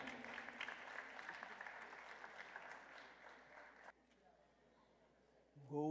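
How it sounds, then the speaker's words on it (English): Faint applause from an audience at a Harriet Tubman storytelling performance, steady for about four seconds before cutting off into quiet room tone, with a voice starting at the end. "Let's give her a round of applause."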